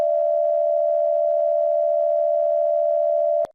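An emergency alert system attention tone holds one steady, loud pitch for about three and a half seconds, then stops abruptly with a click.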